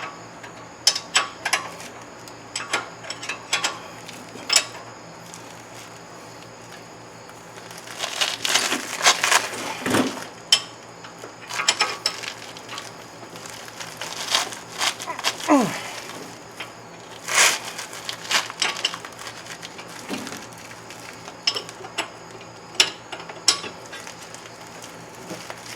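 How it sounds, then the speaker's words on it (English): Ratcheting and clicking come from tightening and torquing a tie rod end on a 2007 Hyundai during CV axle installation, in irregular bursts of wrench clicks and metallic rattles with a few sharper clanks, close by in a workshop. "I have to tighten this tie rod end up. Torque that down."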